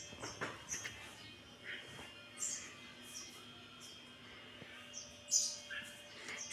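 A sparrow near its nest gives faint, scattered high chirps over about six seconds, with quiet background hum and no clear talking.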